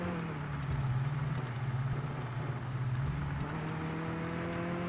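A car engine in the Mon Bazou driving game revs and holds a steady drone, pitch dipping and climbing slightly as the throttle works, loud and continuous with no talk.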